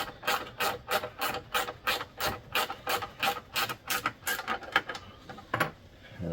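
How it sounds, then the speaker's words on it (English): A screw being driven down into the plastic scraper bar of a Greenworks battery snowblower gives a steady series of about a dozen short, rasping clicks at close range, evenly paced, ending in a couple of slower, fainter turns. "So tightening this down, you're going to make sure not to go too tight"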